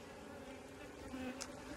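Honey bees buzz on a hive frame in a steady, close, droning hum that carries on throughout the short stretch.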